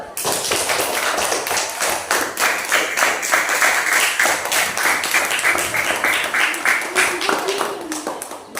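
In a classroom after a group discussion on zakat fitrah, students clap in a loud, rapid, sustained round, with voices talking and calling out over the claps.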